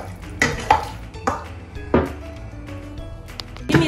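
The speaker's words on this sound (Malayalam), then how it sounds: "ഈ ചോറിൻ്റെ മുകളിലേക്ക് നെയ്തിട്ട് കൊടുക്കാം. മിക്സ് ആക്കാം." Biryani rice being stirred and mixed with ghee in a pot, with a spoon scraping and clanking against the metal in a few loud strokes amid soft cooking noise.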